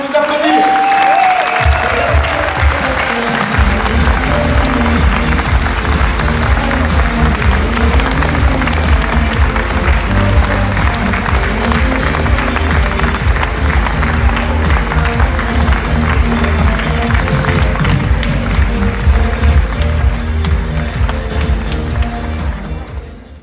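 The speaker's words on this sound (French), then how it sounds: "Vous pouvez nous applaudir." A large audience applauds at a Belgian Mouvement Réformateur political congress, sending up dense, continuous clapping that builds quickly and carries loud and unbroken for about twenty seconds before easing off.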